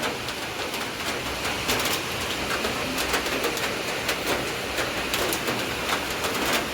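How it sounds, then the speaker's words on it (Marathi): Steady afternoon rain falling in Maharashtra, a constant dense hiss throughout with faint scattered chirps in the background. "आता पाऊस आला दुपारी"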